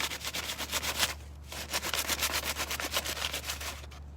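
Steady rhythmic rasping strokes of sandpaper rubbing back and forth on wood, close up, with a brief pause partway through.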